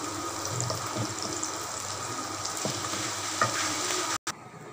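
Onions, garlic and cumin fry in hot oil for mung dal, a steady dense sizzle with occasional stirring scrapes, close and continuous with no talking, cut by a brief gap near the end.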